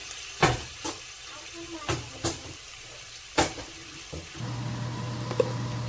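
Beef stir-frying in a pan for Korean beef and radish soup: a steady sizzle broken by several sharp clacks and scrapes of a utensil against the pan, settling into a continuous hiss toward the end.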